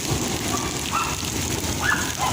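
Heavy rain in Potha, Kashmir, with hail, makes a steady, dense hiss throughout, with a few faint, brief higher calls rising above it in the distance.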